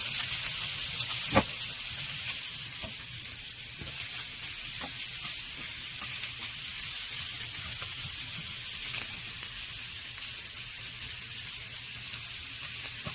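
Onions sizzle in a pan alongside steak with a steady, bright hiss throughout, broken by a few faint sharp ticks of utensils, no voices.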